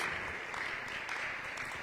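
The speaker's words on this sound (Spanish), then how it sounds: "Den un aplauso al Señor." A church congregation claps during a sermon, a soft, steady spread of applause heard from a distance, faint and without any clear voices over it.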